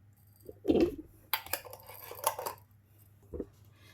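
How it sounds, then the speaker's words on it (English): Small handful of black peppercorns dropped into a dish, giving a quick rattling clatter of hard grains against the container, followed by a brief second burst of light tinkling and a soft knock, close and quiet. "my black peppercorn, just a small handful, just dropping that in"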